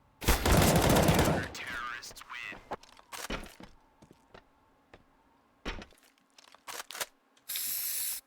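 Rifle fire in a competitive Counter-Strike match from the ESEA Open league: a loud sustained burst opens, followed by scattered sharp single shots and clatters at varying distance, ending with a hissing spray, with commentary talk in the background.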